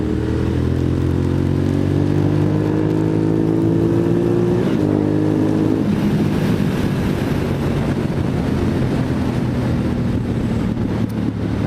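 A Honda motorcycle accelerating at high speed on an open road near 100 mph, with a loud, steady engine whine that rises in pitch, drops at a shift, then settles into heavy wind roar for the rest.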